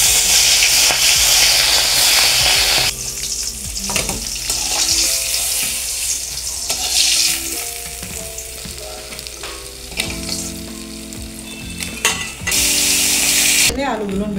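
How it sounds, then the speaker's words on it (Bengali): Small bata fish fry in hot oil in a pan, a loud close sizzle that eases after a few seconds, then bursts up loudly again near the end, with faint bubbling throughout and no one talking. "প্রথমে মাছগুলো ভেজে নেব।"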